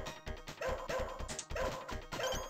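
A dog barks and yips in quick repeated bursts amid arcade game sounds, close and fairly loud with no talking.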